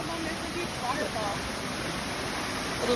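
Waterfall in Huntington Gardens, a steady broadband rush of falling water filling the whole span, moderately loud and even, with faint voices murmuring underneath.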